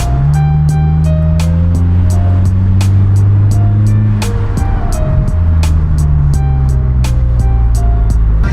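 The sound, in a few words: car engine warming up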